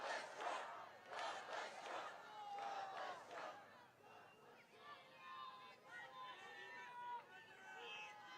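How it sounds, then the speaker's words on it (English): A large outdoor political rally crowd at Butler with two public figures chants together, many voices rising in rhythmic bursts and then settling into a loud, steady roar of massed voices. "Now it looks like they're chanting."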